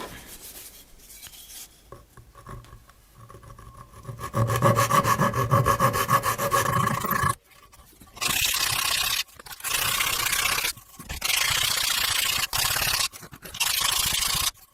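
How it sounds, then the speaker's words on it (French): A dried repair on a wooden SG Junior guitar body is cut and then sanded, giving loud, close rasping and scraping in long back-and-forth strokes that come in bursts separated by short pauses, with no talking. "la réparation du trou a séché, je vais pouvoir découper le bout et poncer"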